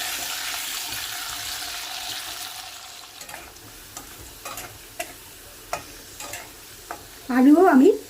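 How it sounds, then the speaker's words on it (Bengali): Potato pieces frying in a pan with a soft continuous sizzle, broken by intermittent stirring and scraping clatters, close and fairly quiet, ending in a brief burst of louder activity. "আমি এখন এটাও ভেজে নেব।"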